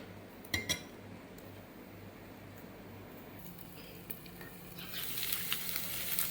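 Colocasia root fry roasting in a pan gives a steady low sizzle with scattered clinks of a utensil, the frying hiss swelling louder and brighter near the end.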